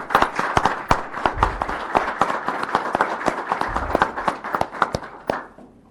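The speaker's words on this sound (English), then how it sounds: "So if you all could please give her a round of applause." A room full of people at a county planning board meeting breaks into sustained applause, a dense, steady patter of many hands clapping at moderate volume for around six seconds before it begins to thin out.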